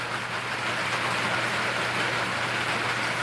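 Heavy rain heard from indoors, a steady, loud broadband wash that stays unbroken for the whole stretch, with a low constant hum beneath it and no voices.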